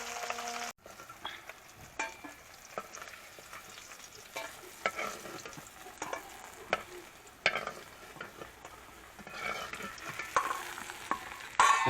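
Pointed gourd (potol) slices frying in a pan for a home-cooked meal, with steady close sizzling broken by stirring scrapes and clatters of a utensil against the pan, no talking.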